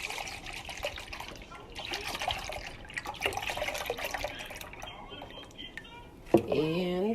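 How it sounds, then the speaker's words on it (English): Half and half poured into a pot on the stove for homemade yogurt makes a soft, steady liquid trickle that runs for several seconds, with a voice talking over it and a louder clatter near the end. "And I'm gonna pour my half and half in there."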